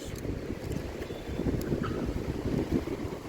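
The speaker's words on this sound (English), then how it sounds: "It's windy out here, so one sec." Steady wind buffets the microphone with low rumbling gusts, loud and continuous throughout, with no voices.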